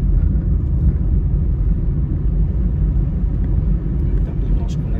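Car interior on a city drive in Yekaterinburg, with a continuous low engine and road rumble throughout and no distinct events.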